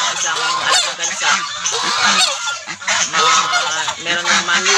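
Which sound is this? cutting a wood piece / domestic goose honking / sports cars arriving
domestic goose honking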